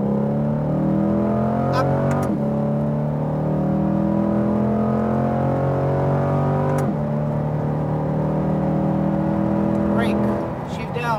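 A Chevrolet Corvette C8 lapping the Speed Vegas track sustains a loud, rising and falling engine drone with sharp gear-shift breaks, heard from inside while an instructor calls out brief driving commands.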